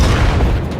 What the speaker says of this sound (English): Thankfully, friendly artillery comes in and takes out the M103 for us.